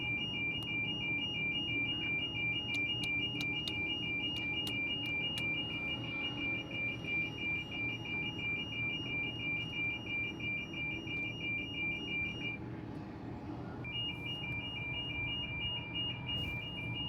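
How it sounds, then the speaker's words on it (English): A McCloskey C3 machine sounds a rapid, steady train of electronic beeps during setup, prompting the remote to be unlocked. The beeps break briefly near the end, then resume over a low mechanical hum. "When you start to hear the beeping,"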